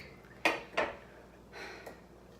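Metal mini muffin pans clank and clatter as they are handled, with two sharp close knocks followed by a softer scrape and a final light tap.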